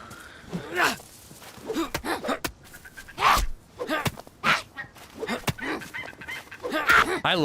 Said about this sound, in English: I love the bird sounds.